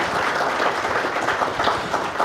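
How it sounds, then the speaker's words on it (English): An audience applauds conference panelists at an economics event in Fiji, a steady, dense wash of clapping from a sizable crowd, sustained at even loudness throughout. "please give them all a round of applause"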